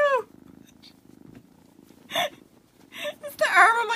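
A cat purrs close by in a soft, rhythmic rumble, interrupted by a few short bursts of human speech.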